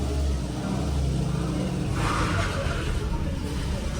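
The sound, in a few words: car engine accelerating after tuning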